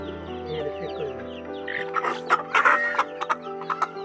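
Chickens cluck close by in a string of short, choppy calls that grow busier and louder partway through, over a steady low hum.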